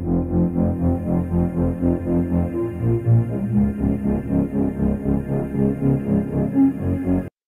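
Original break from a song, with a dense, wobbling synth pad and rhythmic plucks playing steadily and loud for about seven seconds before cutting off abruptly.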